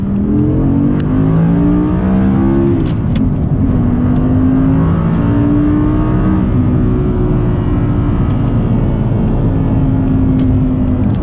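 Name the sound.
sports car accelerating hard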